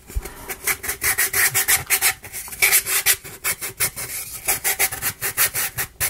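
A sander rubs rhythmically across a wooden platform, close and loud, in quick repeated rasping strokes with short pauses between passes, and no voices.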